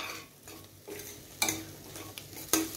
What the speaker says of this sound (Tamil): இதை சேர்த்து நல்லா மிக்ஸ் பண்ணிக்கலாம்.